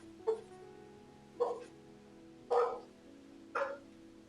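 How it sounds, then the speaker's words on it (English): Household dogs bark in four sharp, evenly spaced woofs about a second apart, distinct and fairly prominent over a quiet indoor background hum, with no talking. "We have some dogs that are very, very loud."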